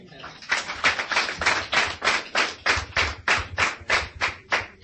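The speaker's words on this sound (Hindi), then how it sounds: "ताली बजा लें इनके लिए।" An audience at a seminar or training event claps for a person in quick, steady, rhythmic bursts, loud and close, continuing for the whole stretch.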